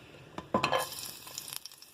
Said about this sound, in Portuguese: Vejam que o alho está fritando